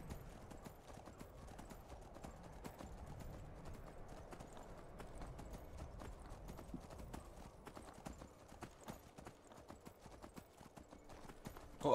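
Horse hooves clip-clop in a quick, steady rhythm throughout in the video game Skyrim, moderately close, with a faint murmur of background sound.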